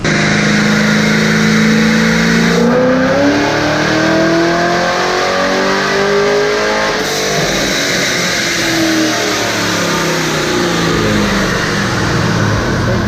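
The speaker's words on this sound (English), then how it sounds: "He's actually firing up a Corvette right now in the background" A Corvette engine fires up and revs in a workshop, loud and sustained with rising and falling pitch sweeps as the throttle is blipped, then settling into a rough idle.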